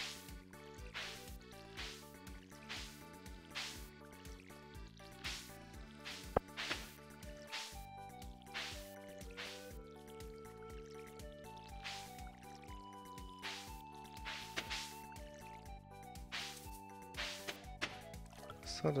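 Watering crops with a watering can in Stardew Valley: repeated splashy pours in quick succession over cheerful game music, no talking.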